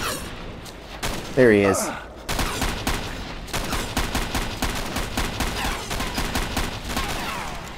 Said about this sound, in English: I am shooting.